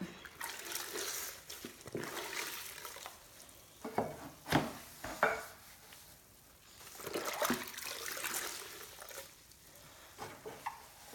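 Leftover water is tipped from a pottery wheel splash pan into a bucket during ceramics cleanup, coming as several faint, close bursts of splashing and trickling separated by quieter stretches of handling noise.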